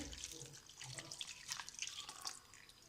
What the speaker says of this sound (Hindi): ये जो जूस हमने इससे निकाला था, ये सब जूस हम इसके अंदर डालेंगे।